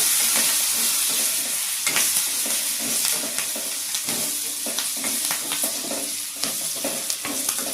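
Green chillies and curry leaves fry in a pan with a loud, continuous sizzle and hiss, broken by frequent scraping and tapping of a stirring utensil, close and unaccompanied by speech.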